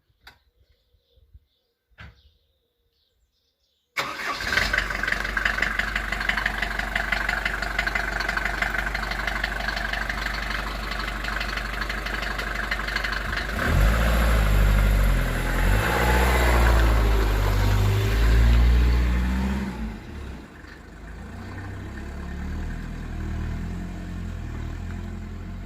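A 1992 Mercedes-Benz 190D W201 diesel sedan starts up, settles into a steady idle, then pulls away, its engine note rising and growling as it accelerates before easing back to a lower hum.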